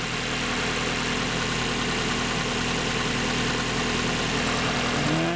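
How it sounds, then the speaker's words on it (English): Steady, loud idle of a 1994 Mazda Miata engine, a continuous even rumble with a constant hum throughout and no voices. "Engine's running fine."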